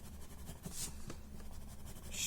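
Graphite pencil shading on paper, soft scratchy strokes in an irregular back-and-forth rhythm, close and faint, with no talk.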